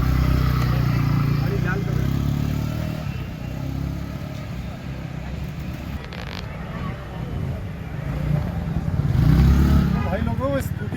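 A new scooter rides along a college road in Nainital, its engine droning steadily with the hiss of the road, one rise in revs and wind buffeting, while a rider talks over it.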